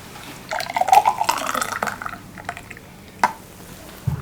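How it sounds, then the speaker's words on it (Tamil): White pumpkin juice mixed with buttermilk and a little salt is poured into a tumbler, a close liquid splash and trickle lasting a couple of seconds, then a faint drip or clink near the end. "இதன் டம்ளரில் ஊற்றி கொடுங்கம்மா."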